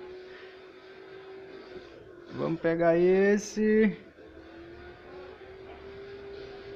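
A race car engine in a racing video game, played with a PS2 controller on an Android TV box, drones steadily at a constant pitch, and someone speaks briefly over it midway.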